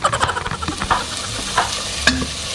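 Biryani base frying and being stirred in a pan, with a steady sizzle and scraping spoon strokes in irregular bursts, close and fairly loud, no talking.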